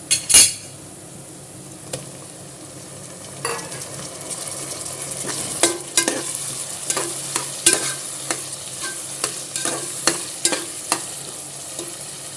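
Onions and tomatoes sautéing in a pan for masala chicken curry, with a steady low sizzle under repeated scraping and stirring clinks of a spoon against the pan, close by and with no talk.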